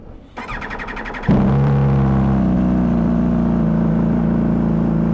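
A Suzuki SV1000 motorcycle cold-starts: a brief whirring starter crank, then the V-twin catches with a loud burst and settles into a steady, rumbling high idle, close by with no talk.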